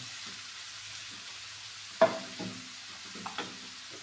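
Shrimp and Chinese kale stir-fry together in a pan, a quiet sizzle running under a few sharp clacks and scrapes of a spatula against the metal, with no talking.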